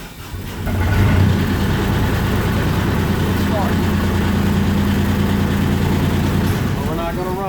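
A diesel engine with glow plugs cranks and catches under a second in, then settles into a loud, steady, low rumbling idle close by that holds without a break until the end.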